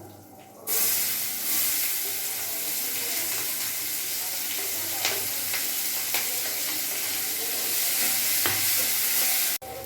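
Chopped onions hit hot oil spiced with bay leaf and whole garam masala, erupting into a loud steady sizzle with occasional stirring clicks, close up, before cutting off abruptly.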